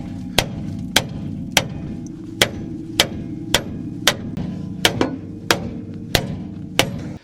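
A hammer strikes the frozen, dirt-packed part of an old Mercury Montclair again and again, a dozen sharp metallic clanks spaced roughly half a second apart over a low background rumble.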